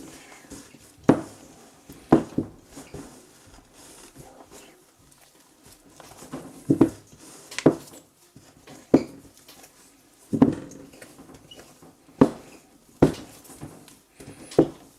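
Croissant dough being mixed by hand in a bowl, a series of sharp knocks and clanks of a spoon or hand against the bowl at uneven intervals, close and fairly loud between quiet stretches of soft stirring.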